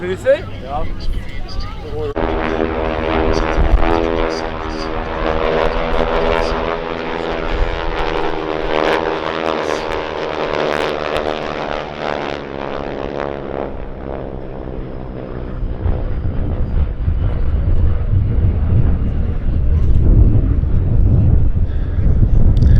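North American Harvard propeller trainer aircraft drone loudly overhead at the Duxford air show, a rich throbbing engine tone that holds steady and then fades into rushing wind noise as the planes pass.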